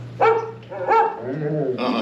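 Animatronic dog barking during Walt Disney's Carousel of Progress show at Magic Kingdom, a few short yips and barks over a low steady hum from the stage.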